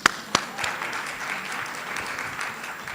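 Audience applause at an international business women's exhibition, a steady wash of clapping lasting the full stretch after a couple of sharp louder claps at the start, moderately loud and without talk over it.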